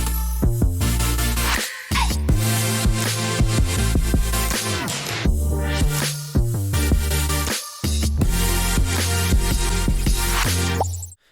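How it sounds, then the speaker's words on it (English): Dense, bright supersaw chords from a Serum patch for future pop pump in a steady rhythmic pattern with heavy low end, loud and continuous, broken by brief gaps between phrases. "Or maybe you like a supersaw that sounds like this"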